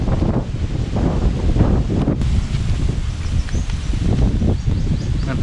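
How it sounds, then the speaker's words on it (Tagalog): Strong wind roars and buffets the microphone continuously, a loud, rough rushing with no voices, outdoors during house renovation work in Bicol, Philippines. "Ang lakas ng hangin."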